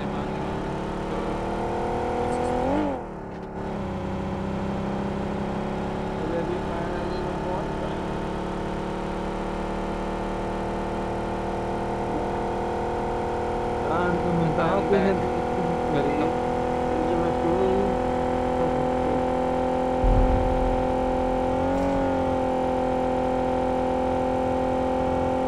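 A motorbike engine in BGMI drones steadily and fairly loud for the whole stretch, with small shifts in pitch and a brief dip near the start, and no talk over it.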